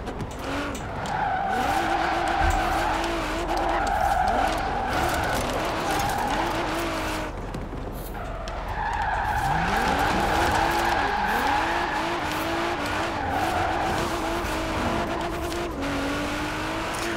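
Cars in the racing video game Forza Horizon 4 rev and skid continuously, with long wavering tire squeals rising and falling over a steady loud engine drone throughout.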